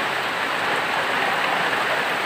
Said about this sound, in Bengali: বৃষ্টি পড়ে একদম পুরা তলিয়ে যাচ্ছে